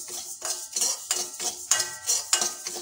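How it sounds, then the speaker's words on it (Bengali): About 150 g of dalia (broken wheat) dry-roasting in a dry kadai, stirred with a utensil. Rhythmic scraping and rustling strokes come roughly every third of a second, close and clear, with no speech. "ডালিয়াটা শুকনো কড়াইতে একটু ভালো করে ভেজে নেব।"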